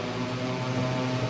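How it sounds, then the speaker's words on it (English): Engines on a flying contraption in Garry's Mod roar with a loud, steady droning hum, briefly and continuously, with no other sounds. "It's a bit loud, but the engines are going forward"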